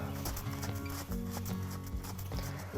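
Horse trotting on a lunge line during a walk-to-trot transition, with a steady rhythmic clip-clop of hooves close by over a continuous low background hum.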